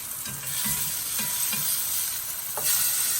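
Banana slices crisping in a hot pan of oil give a steady, close sizzle with a few soft scrapes and stirs, no voices over it.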